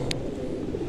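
Pigeons in a large breeding loft give a low, brief coo amid a dense murmur of birds and a short high click.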